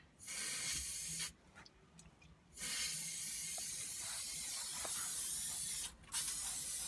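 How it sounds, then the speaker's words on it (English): Aerosol cleaner spray hissing in three bursts onto a VW T4 2.4 engine, a long one, a shorter one, then another long burst, close by with brief pauses between. "I'm gonna spray some of this cleaner on it."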